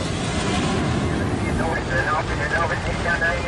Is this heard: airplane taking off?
yes